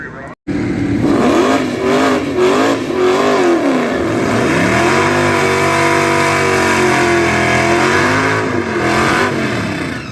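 A Chevy LT1 drag car with a bolt-on CC503 cam on a 150-shot nitrous setup roars loudly at full throttle after a brief silent start, its pitch climbing and dropping through gear shifts for the rest of the pass.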